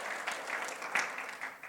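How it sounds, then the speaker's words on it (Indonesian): A church congregation at a Sunday worship service claps briefly for Jesus, a short burst of fairly faint, scattered applause in a reverberant hall. "Yang setuju kembali berikan tepuk tangan bagi Tuhan Yesus."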